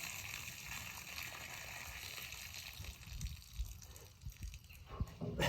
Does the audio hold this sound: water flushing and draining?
yes